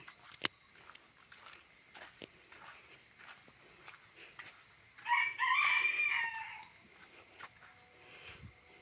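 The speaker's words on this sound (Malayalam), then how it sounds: "കോഴിയും കൂന്നു" A rooster crows once in the middle distance, a loud drawn-out call standing out over quiet outdoor ambience with faint scattered movement.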